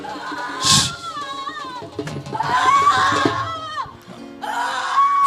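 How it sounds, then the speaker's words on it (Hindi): Loud screams and wailing cries from a person during a Christian deliverance prayer meeting, coming in bursts with excited voices and crowd noise around them. "चल मुंह खोल और चिल्ला और निकल जा।"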